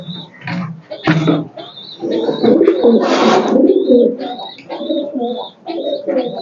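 Racing pigeons coo close by in repeated soft, throaty bursts, mixed with high chirps and wing rustles from a loft full of birds.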